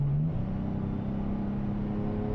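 A 2023 Toyota 4Runner's engine pulls from about 65 to 80 mph, a steady loud drone whose pitch rises slowly under road and wind noise.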